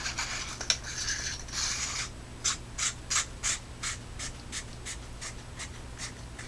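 Threaded parts of a Nitecore P35i flashlight are screwed back together, making close, dry, scratchy rubbing. It starts as longer scrapes and then turns into a quick regular series of short ratcheting strokes that fade toward the end.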